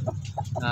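A mother hen with newly hatched chicks clucks close by in a few short, soft, rhythmic calls, with a faint low hum in the background.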